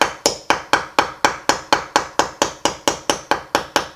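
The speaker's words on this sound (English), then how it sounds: "hold the shape when you hammer that" Sharp, evenly spaced hammer blows strike a steel tube rivet set on a steel riveting block, about four ringing metallic hits per second, loud and close, with no talk.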